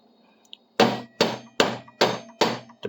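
Hammer striking the edge of a flat metal plate to bend it over a bar, five sharp ringing blows evenly spaced and close, each with a brief metallic decay, with faint clicks before the first.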